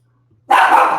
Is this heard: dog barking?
yes